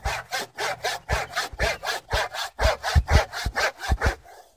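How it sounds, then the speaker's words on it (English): A crosscut hand saw cuts a large wooden tenon in about fifteen quick, rhythmic rasping strokes, close and clear, ending with a brief quieter scrape. "trying to do this like this with a crosscut saw is a bit of a pain"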